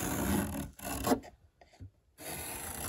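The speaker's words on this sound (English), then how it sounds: "So now I just take my scribing tool" A scribing tool draws a marking line across a sanded cabinet panel during a Ram Promaster camper van build, giving close, raspy scraping strokes with short pauses between them.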